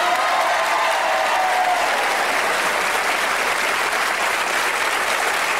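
Studio audience at a darts game show giving darts player Jocky Wilson a loud, sustained round of applause and cheering, a dense, even roar of clapping that carries steadily from start to finish.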